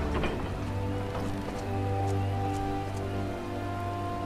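Pouring rain in the video game Final Fantasy XIV, a steady hiss of falling water with scattered drop patters over a low, constant ambient hum.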